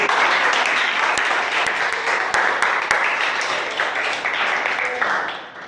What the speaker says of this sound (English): Clap for you people.